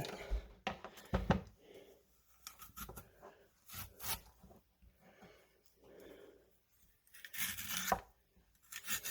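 Beets are shredded with a Chop Buddy chopper on its smallest setting, giving intermittent crunchy, scraping bursts close up, with a person talking quietly between them.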